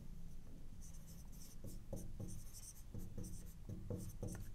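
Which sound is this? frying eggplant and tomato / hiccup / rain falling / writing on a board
writing on a board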